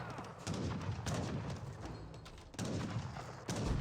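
Outposts fire in an Age of Empires 3 battle, a quiet stream of distant cannon and musket shots in repeated bursts.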